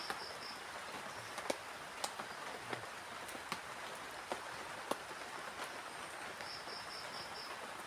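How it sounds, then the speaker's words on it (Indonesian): Light drizzle patters steadily at a campsite, a soft continuous hiss with occasional distinct drips and faint insect chirps behind it. "Sambil ditemani sama rintikan hujan ya."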